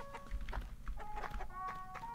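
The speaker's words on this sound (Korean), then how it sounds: "와, 닭이다, 닭!" A chicken in the RPG LISA: The Painful clucks in short, bright bursts, several quick clucks in a row at close range, with game music tones running underneath.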